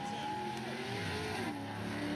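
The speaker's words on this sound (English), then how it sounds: "Red Dragon against Liam Monahan in his, I think that's an 82 or early 80 Z28 build motor" Drag race cars, one an early-1980s Chevrolet Camaro Z28 with a built motor, roar steadily at a distance, engine pitch sweeping as they accelerate down the strip, with no voices over the drone.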